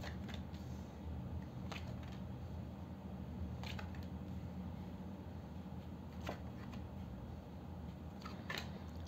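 A deck of playing cards is cut by hand, with a few soft, brief riffling and snapping clicks spaced over a quiet background, close and faint with no voices.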